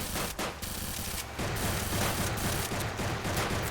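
Rapid sustained gunfire from a minigun in a Roblox game, a loud continuous stream of shots with brief gaps, heard on its own without talk.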